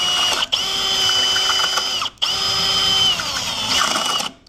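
A power drill bores into a hardened ASSA Stanley high-security padlock, grinding loudly and steadily with a high whine, stopping twice for short pauses before resuming and cutting off at the end.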